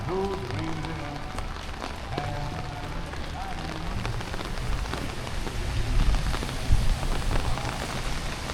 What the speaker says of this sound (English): It's cold and it's raining,